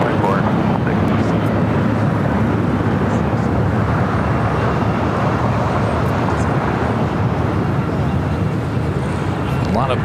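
Jet engine roar from a Spirit Airlines Airbus A320 at LAX fills the scene as a loud, continuous broadband rumble, steady throughout, with voices faintly mixed beneath.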